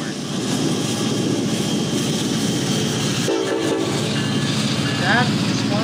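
A Norfolk Southern NS1197 lead locomotive sounds its horn, a loud chord that comes in partway through. It sits over the steady roar and rumble of a passing freight train heard up close.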